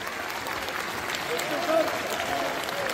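An audience applauds at a Christmas charity concert, with continuous clapping spread through the hall and a faint voice or tone rising briefly above it.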